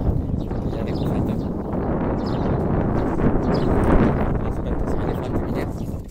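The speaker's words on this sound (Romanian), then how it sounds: "Bate vântul." Wind blows hard across an outdoor construction site beside a freshly unformed concrete septic tank, a continuous loud rumbling buffet on the microphone that swells and eases for several seconds.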